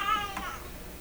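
A house cat gives a single short meow close to the microphone indoors beside an old German Graetz Polka tube radio, fading quickly into quiet room noise.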